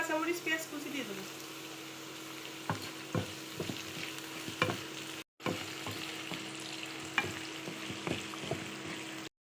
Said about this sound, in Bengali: এইভাবে গাজর ভেজে নিতে হবে